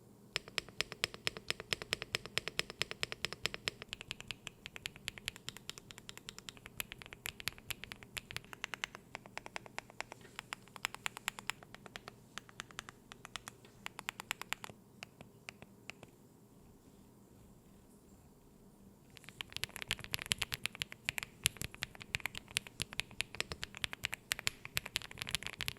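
Typing on an Epomaker Galaxy 100 full metal mechanical keyboard with five layers of acoustic dampening, a fast, soft, muted clatter of keystrokes that pauses briefly partway through before resuming, with no talking.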